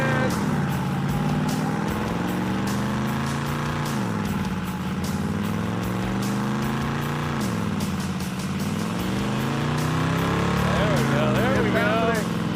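A 1980 Dodge Mirada engine runs hard at about 2,900 RPM with pinging, a loud rough drone that rises and sags in repeated sweeps, with voices talking over it.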